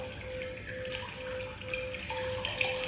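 Gentle running water trickles steadily within soft background music during a wall yin yoga session, a continuous low wash beneath a sustained musical tone, no talking.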